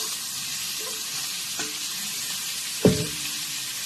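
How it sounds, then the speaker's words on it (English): Pork dropped onto softened onions in a 12.5-inch iron skillet for carnitas, making a quiet, steady sizzle with one dull thump as the meat lands. "So my onions are soft, and I'm going to add my pork."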